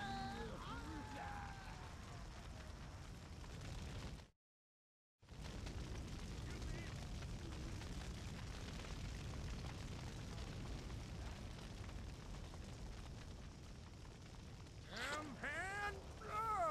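Gunfire and explosions from the zombie action video game Stubbs the Zombie, a dense, continuous roar of game combat noise with a brief dropout near the middle and voiced game chatter mixed in near the end.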